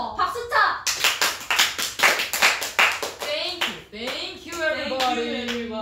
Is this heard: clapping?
yes